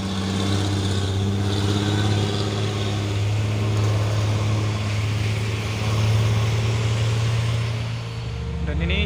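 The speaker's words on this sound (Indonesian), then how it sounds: "Dan ini juga ada satu nih truk trailer Hino 500 membawa peti kemas atau kontainer." A Hino 500 trailer truck hauling a shipping container passes on a road just after rain, its steady low diesel drone holding close and loud throughout, with voices talking over it.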